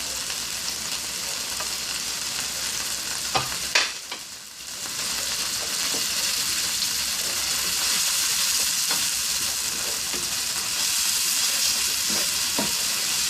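Shrimp sizzling in a hot pan while cooking pancit bihon in the Negrense style in Bacolod City, a steady dense frying hiss with occasional stirring scrapes and a brief dip midway, close and continuous with no talk.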